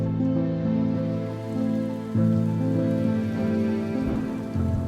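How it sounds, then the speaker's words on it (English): Rain falls in Montana after winter snow gives way to a thaw, a steady, close patter on surfaces that continues without pause under a low, even background hum. "Then, the snow gave way to rain."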